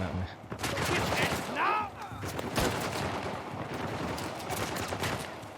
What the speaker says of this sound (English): There is no way with that amount of dudes shooting at me.